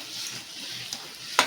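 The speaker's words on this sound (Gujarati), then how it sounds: "હલાવતું રહેવાનું જેથી ચોટે નહીં." Sweet potato sheera stirred in ghee in a heavy-bottomed pan, a soft sizzle and scraping hiss ending in a sharp spoon knock against the metal.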